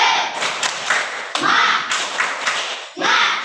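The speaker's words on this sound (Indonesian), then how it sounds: "Kita tepuk semangat" A group claps a classroom cheer in a quick, uneven rhythm with several sharp bursts, close and fairly loud, with a few thuds mixed in.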